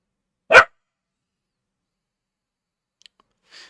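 A dog gives a single sharp, loud bark close by, followed by near silence with a couple of faint clicks and a soft rustle at the end.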